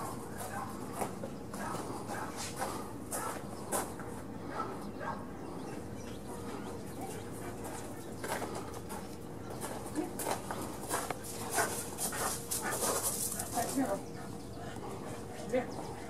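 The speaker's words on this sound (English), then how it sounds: "you have to walk past three dogs" Dogs at a kennel bark now and then in the middle distance, under a person talking, with a constant background bustle and what may be birds cooing.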